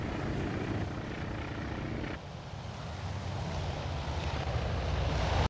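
WWII aircraft engines droning as planes land on the carrier Lexington in the simulator Task For Admiral, a steady loud roar that dips briefly and then swells before cutting off abruptly.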